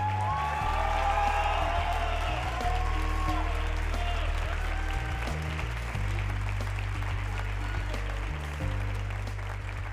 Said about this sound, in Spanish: Por favor, démosles un fuerte aplauso.